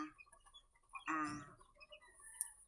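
Young chicks being given feed, with a short burst of clucking and chirping near the middle among faint scattered peeps, fairly quiet and with no talk.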